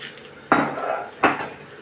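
A spoon stirring bulgur pilaf in a pot after water has been added, two distinct scraping strokes against the metal, close and moderately loud, with quiet pauses between.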